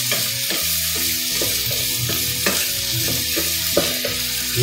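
Onions frying in a pan for corned beef are stirred with repeated scraping strokes over a steady, close sizzle, with no voices.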